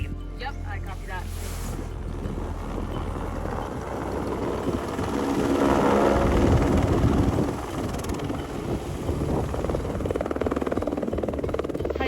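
Rescue helicopter on Denali, its rotor and engine drone building and holding loud and near amid wind buffeting on the microphone, with voices speaking over it.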